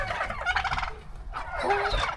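Farmyard turkeys kept alongside chickens let out two loud, close gobbles in quick succession, each a rapid warbling burst with a short pause between and no talking.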